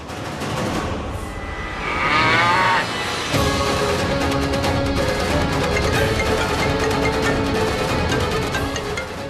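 Cows and goats crowd a road, a single bleat rising briefly near the start while a vehicle drones steadily underneath with busy traffic noise throughout.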